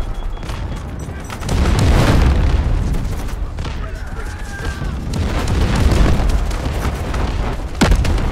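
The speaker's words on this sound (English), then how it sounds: "Artillery ready for barrage." An artillery barrage in the video game Delta Force rumbles as heavy booms and low thuds roll steadily under loud battle noise, with a voice speaking over the din.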